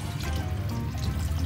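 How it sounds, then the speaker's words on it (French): Stock is poured steadily into a pot of red wine boiling with aromatic vegetables for braised beef cheek, a continuous close splashing trickle for a second and a half. "On va ajouter un petit peu de bouillon"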